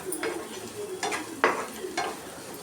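Tomato thokku, a spicy tomato relish, stirred into a sizzling pan of frying green chillies and vegetables in a home kitchen, with a soft steady sizzle and a few sharp scraping stirs, close, with no talking.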